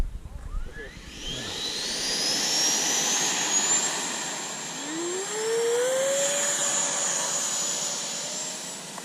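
A Freewing F-22 Raptor 90mm electric ducted-fan RC jet spools up with a rising whine and roars off on its takeoff run, a steady loud high-pitched rush that holds for several seconds, a sliding tone drifting upward, with voices briefly at the start.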